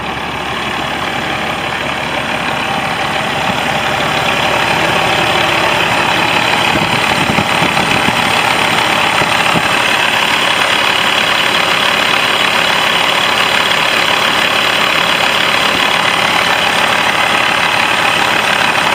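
A 2008 Peterbilt 389 truck with a Cat engine idles steadily, a loud, continuous low rumble with a faint knocking texture that holds even from start to finish, with no talking.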